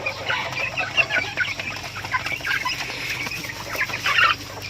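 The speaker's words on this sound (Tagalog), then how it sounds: "yung mga bagong lipat na sisiw natin dito" Newly moved chicks in a poultry pen chirp continuously in a dense, overlapping chorus of high peeps, close and steady with no talk.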